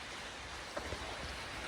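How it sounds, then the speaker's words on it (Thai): Steady rain falling during a rainy day, a soft continuous wash of noise with a couple of faint drop taps, no voices. "ว่าฝนตกทั้งวันเลยครับ"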